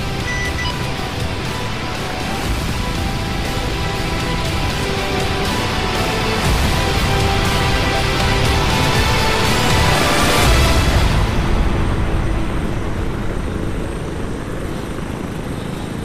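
Helicopter engine and rotor in the Arma 3 video game, a steady loud drone with rising whine around the middle and a broad surge before easing slightly toward the end.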